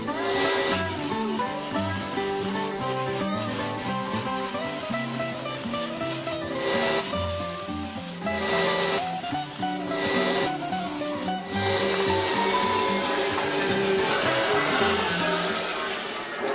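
Belt sanding a table knife blade in a workshop: a steady, loud abrasive grinding rasp that runs continuously, with rhythmic surges and dips as the blade is worked against the belt.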